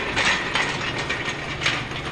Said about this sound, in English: you're going to have to resort to a socket and a ratchet and a wrench to take this bearing off